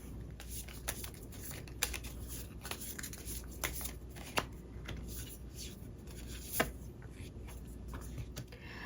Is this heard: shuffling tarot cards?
yes